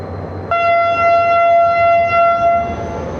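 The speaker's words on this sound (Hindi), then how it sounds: "फ़िक्स 9 बजे सायरन बजा है और ट्रेन रवाना हो गई है" A train siren on a departing passenger train from Karachi to Larkana blares in one loud, steady, tonal blast of about two seconds, starting abruptly over a low rumble of station noise.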